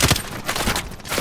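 Burst of gunfire in a first-person shooter video game, several quick shots in a tight cluster across a short, dense stretch of battle noise, loud and close.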